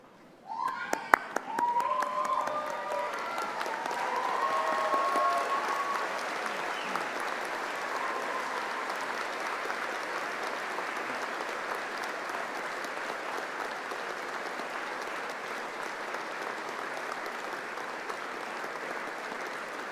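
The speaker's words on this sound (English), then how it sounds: "join me in showing your thanks with a huge round of applause" Graduates at a university science and technology graduation ceremony give a long, sustained round of applause for their supporters, dense clapping filling a large hall for the whole stretch after a few sharp early claps, with faint voices mixed in.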